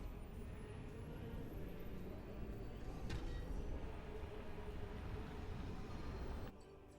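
A tram ride in the video game Metroid Prime 4 gives a steady mechanical rumble and whoosh that holds even for several seconds, then drops off abruptly near the end.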